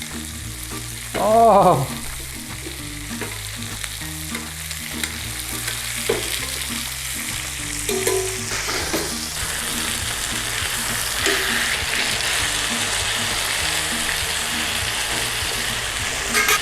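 Pork chops fry in garlic butter with a loud, continuous sizzle and bubbling spatter, plus stirring and spooning clatter; a brief exclamation cuts in near the start.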